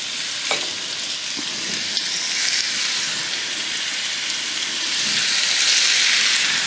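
Boneless beef short ribs searing in a hot pan give off a steady, loud, close sizzle and crackle that holds throughout, swelling slightly near the end, with no voices.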